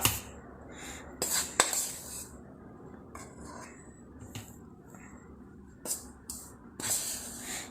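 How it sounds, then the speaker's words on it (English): A cocoa powder and sugar mixture is poured into a small mixer jar for chocolate spread, giving soft hissing pours and rustles in bursts, with a few light clinks of utensils nearby and no talk. "Now I am putting cocoa powder and sugar mixture."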